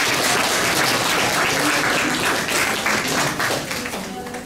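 Loud, dense audience applause from a group at a community gathering in Devdaha, steady and continuous before tapering slightly toward the end.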